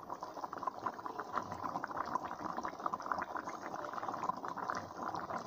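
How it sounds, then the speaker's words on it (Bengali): A pot of Bengali fish curry made with bata fish and gathi simmers at a steady boil, giving a soft, continuous bubbling and gurgling that stays fairly quiet and close throughout, with no voices. "দেখো তরকারিটা ফুটছে কি সুন্দর।"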